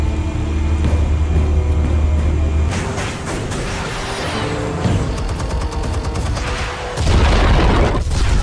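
Explosions from the Batman: The Telltale Series video game: a rumbling low blast gives way to a dense burst of crackling booms and pops, then a second heavy low boom near the end, loud and with no talk.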